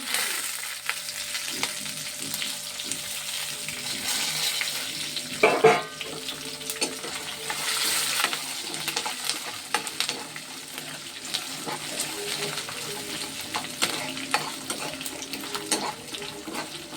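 Tempering spices sputter and sizzle in hot oil while being stirred, a close crackling hiss with a sharp burst of popping partway through, then settling into steady frying.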